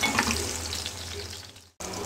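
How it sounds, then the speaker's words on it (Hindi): Brinjal frying in a pan over a slow flame gives a steady, close sizzle with soft crackles. It cuts out abruptly for a split second before resuming at the same level, with no talk. "बैंगन को स्लो फ्लेम पे फ्राई कर रही हूँ मैं।"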